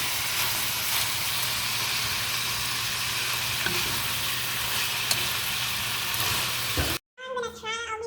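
Lumpia sizzle and crackle in hot frying oil, a dense, steady hiss close by that fills most of the stretch before stopping abruptly as a voice begins speaking.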